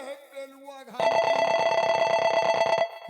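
A telephone rings during a folk nautanki comedy, a loud steady electronic ring lasting about two seconds, with voices talking just before it starts.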